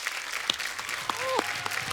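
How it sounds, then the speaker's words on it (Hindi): A TV comedy show's studio audience applauds the Indian cricket team, a fairly soft, even wash of clapping lasting two seconds, with a brief voice cutting through near the middle. "एक बार जोरदार तालियां हो जाए हमारे सारे चैंपियंस के लिए"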